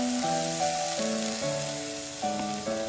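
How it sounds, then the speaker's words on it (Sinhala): Onion flowers sizzle and fry steadily in hot oil, a constant close hiss with faint tonal hum from the stove area behind it. "ලුණු මල් ඔක්කොම ටික එකතු කරලා මේ වගේ හැන්ද පාවිච්චි කරලා තෙල් එකත් එක්ක කවලම් කරගන්න."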